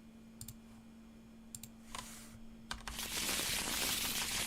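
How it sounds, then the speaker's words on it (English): A deck of Arkham Horror card-game cards is handled with a few soft clicks and taps, then riffled in a quick shuffle that builds into a dense, close flutter of card edges. "We'll give both of them a quick shuffle."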